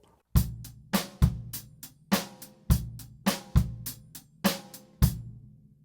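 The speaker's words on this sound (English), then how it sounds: "Now we're going to play the bass drum on 1 and the and of 2." A drum kit plays a beat with the bass drum on 1 and the and of 2: punchy kick and crisp snare with cymbal wash in a steady, lively pattern, alone and close.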